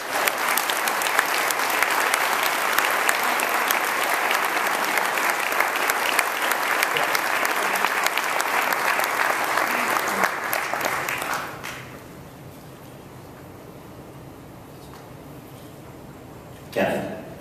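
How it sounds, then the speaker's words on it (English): Sustained audience applause fills a banquet room at a benefit dinner, loud and dense for about eleven seconds before dying away to quiet room tone, with a brief noise near the end. "I want you to give him a big round of applause"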